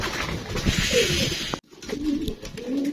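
Racing pigeons landing on a rooftop loft after a race, cooing outdoors with soft fluttering and bird calls, a brief break midway before the cooing resumes alongside steady background noise.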